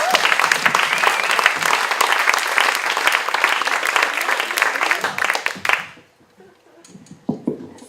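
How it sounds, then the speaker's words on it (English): Loud, dense applause for comedian Melinda Monroe fills a comedy stage show, sustained for several seconds before cutting off abruptly, followed by faint room noise and a few scattered sounds. "Ladies and gentlemen, how about a huge round of applause for Melinda Monroe"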